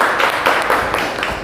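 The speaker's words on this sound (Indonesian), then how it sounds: "Oke, boleh tepuk tangan untuk kelompok 1." Students in a classroom applaud for group 1 with a dense, steady burst of hand clapping, close and fairly loud, lasting just over a second.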